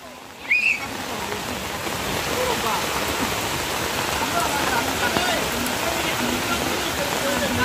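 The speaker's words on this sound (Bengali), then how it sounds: "আপনাকে সময় মতো নেই বৃষ্টি নামছে" Steady rain falls in a continuous broadband hiss that holds evenly for several seconds, with a brief louder knock or voice near the start.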